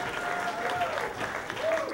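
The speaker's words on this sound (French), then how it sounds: "On les applaudit." An audience claps for the performers at a school fashion show, steady moderate applause with faint voices and a few whoops rising over it.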